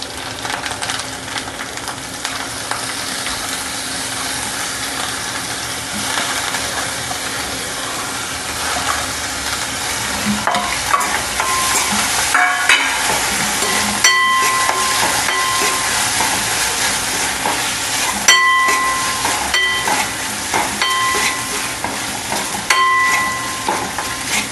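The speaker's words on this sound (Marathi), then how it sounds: "ही वरी मी धुवून घेतलेली आहे. ती आता ह्याच्यामध्ये भाजून घ्यायची चांगली व्यवस्थित." Washed vari (barnyard millet) roasting in a pan and being stirred, a steady hiss and sizzle with scraping stirring sounds that grow slightly busier later, with no voices.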